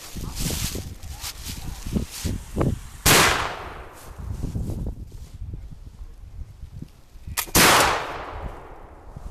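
Two sharp, loud flintlock muzzleloader shots fired at spinner targets 10 yards away, each a sudden blast with a trailing roar, spaced several seconds apart amid outdoor rustle and faint background voices.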